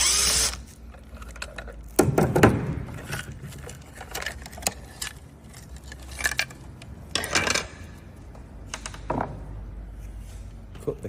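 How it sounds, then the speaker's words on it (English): A screw being driven out of the lid of a Polar Air I-Type control box with a power tool, several short whirring bursts separated by pauses, close and moderately loud. "We are going to unscrew the lid of the control box."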